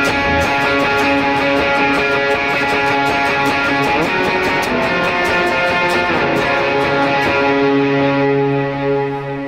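Electric guitar riff played through an overdrive patch on a Valeton GP200 multi-effects unit, a dense, sustained distorted tone ringing steadily and loudly throughout with no voices.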